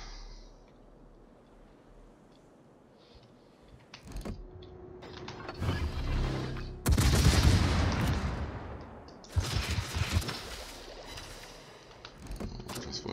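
Naval guns boom in a World of Warships battle, heavy broadband blasts arriving in loud bursts around the middle and latter part, with mechanical creaks and rumbling beforehand and no talking.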